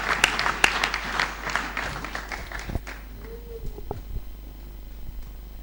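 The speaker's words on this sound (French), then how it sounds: "Can we clap for him?" Church congregation applauding during a bilingual English-French sermon, a burst of claps that fades after about three seconds into quieter room noise with scattered small sounds.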